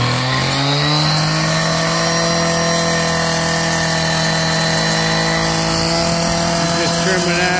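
A power saw cuts brick pavers at a home's front entrance, a loud continuous high whine with a steady droning pitch that holds throughout, close up and dominating the scene.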